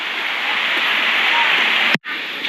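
Steady, loud rush of a waterfall below the viewpoint at Santathen Waterfall, Chonburi, Thailand, a continuous broadband roar with a brief dropout near the end.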